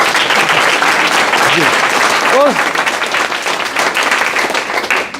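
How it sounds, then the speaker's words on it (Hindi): Audience at a Vestige corporate event clapping loudly and continuously, a thick sustained roar of applause while someone speaks briefly over it. "ताली नहीं बजाओगे?"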